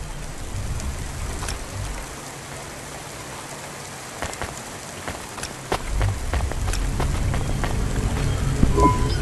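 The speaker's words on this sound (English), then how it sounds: "Don't let all the rain get you down." Continuous rain falls in a neon-lit city in the video game Cloudpunk, played on Nintendo Switch, a steady close hiss with scattered drips and a faint low rumble building toward the end.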